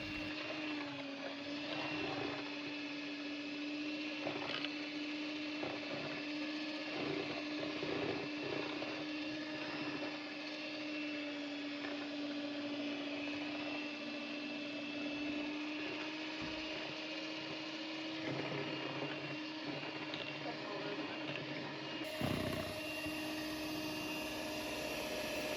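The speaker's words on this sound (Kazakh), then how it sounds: "миксермен еземіз" A steady electric hand mixer whirs continuously while beating eggs and sugar for a lemon pie batter, a constant motor drone with slight changes in pitch, near and unbroken, with no talking.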